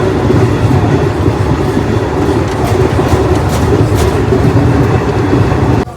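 A train pulls into Anantnag railway station with a loud, steady rumble and rattle of wheels on rails heard from on board, continuous throughout before ending abruptly.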